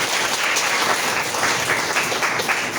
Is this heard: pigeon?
no